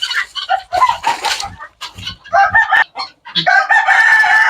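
Loud, close Sonali chickens cluck and crow, overlapping calls from a crowded flock on a large poultry farm, with a drawn-out crow near the end.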